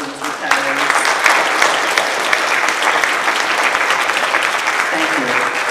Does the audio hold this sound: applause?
yes